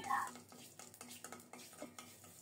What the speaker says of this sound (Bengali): ফোড়নে দিচ্ছি একটা শুকনো মরিচ, অল্প জিরা আর রাঁধুনি।